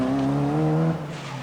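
A 1275cc car at a 1983 Irish autotest at Leopardstown Racecourse lets out a loud, close tire squeal with strained engine tone, which cuts off abruptly after about a second.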